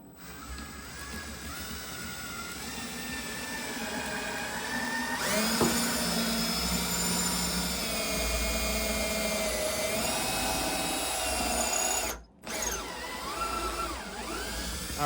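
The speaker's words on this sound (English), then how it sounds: "Just drilled the hole between the cavity and the pickup" A power drill bores through the reclaimed wood body of a handmade lap steel guitar, cutting a hole between the cavity and the pickup. The motor whines steadily and close for about twelve seconds, with a brief stop near the end.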